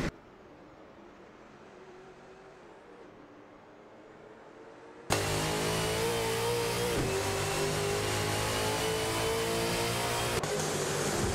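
Race car engines in an AI racing video game, with a Nissan Altima and Ford Falcon FG among the field, droning quietly and then abruptly jumping to a loud, continuous high-revving whine that holds steady to the end.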